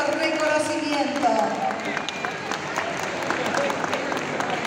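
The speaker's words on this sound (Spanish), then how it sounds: "Fuerte el aplauso para Vivi" Applause and crowd noise at a rural community anniversary gathering, moderately loud and continuous, with voices mixed in among the clapping.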